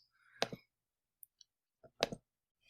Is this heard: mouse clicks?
yes